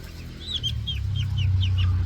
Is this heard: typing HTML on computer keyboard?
no